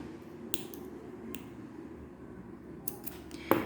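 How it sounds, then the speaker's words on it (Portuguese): Scissors snip through crochet yarn, a few quick isolated clicks over a quiet room hum, the last cut slightly louder. "aqui a gente vai cortar a linha"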